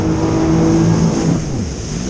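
A jet ski runs hard and fast across cold open ocean water, its engine a loud steady drone with a falling pitch toward the end, close and continuous with no talk.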